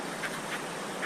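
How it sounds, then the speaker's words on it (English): Short repeated bird calls outdoors near a fishing spot, three faint bursts spaced evenly about a quarter second apart, duck-like quacking in quality, no talking. "Listen to the birds."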